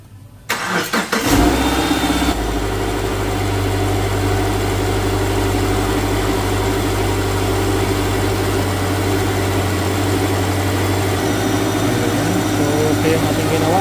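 A Subaru Liberty 2.5 L engine cranks briefly and catches after a timing belt replacement, then settles into a steady, even idle that holds close and loud to the end.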